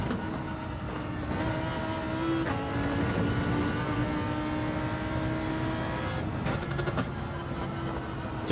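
Race car engine in Gran Turismo 7 at Fuji, a steady loud drone with shifting harmonic tones and a burst of rapid popping near the end as the revs drop on a downshift.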